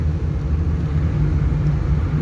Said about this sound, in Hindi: अभी हमारी गाड़ी थर्ड गियर में चल रही है